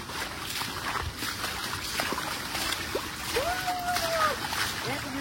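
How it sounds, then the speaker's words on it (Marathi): Rushing water at Dhodhadi waterfall near Padghe, a steady broadband roar that lasts the whole time, with voices talking over it. "पाणी पूर्ण एकदम जोरदार."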